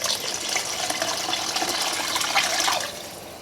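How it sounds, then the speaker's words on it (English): Liquid beef stock made from bouillon base pours steadily into a pot for French onion soup, a continuous close splashing gush lasting a few seconds and tapering off at the end, with no talk. "I'm also going to add 2 quarts of the beef stock"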